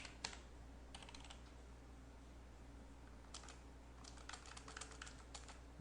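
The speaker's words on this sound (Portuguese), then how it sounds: "E aqui a gente vai digitar aí." Bursts of clicky keystrokes on a computer keyboard come in short clusters over a steady low hum, fairly quiet and close, with no talking.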